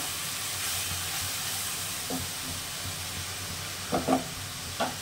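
Ground spice masala with a splash of water sautéing in a pan for a cabbage, potato and green pea curry, a soft steady sizzle with a few brief stirring scrapes near the end.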